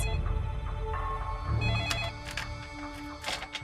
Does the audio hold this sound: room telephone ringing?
yes